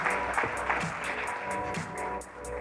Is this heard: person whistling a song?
no